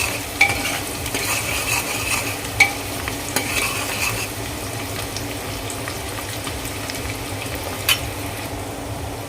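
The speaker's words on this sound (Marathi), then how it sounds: "कांदा ट्रान्सपरंट होईपर्यंत आपल्याला परतायचा आहे" Chopped onions sautéing and being stirred in a pan for an Agari-style chicken rassa, with a steady soft sizzle and a few sharp spoon clicks against the pan, close and continuous.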